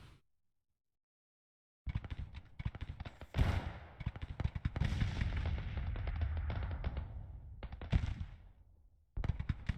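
Howitzer artillery fire in the Civil War strategy game Grand Tactician: The Civil War, loud dense booming volleys and rumbling blasts that go on for several seconds after a brief silence, with no talk.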